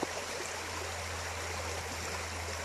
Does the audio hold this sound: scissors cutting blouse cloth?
no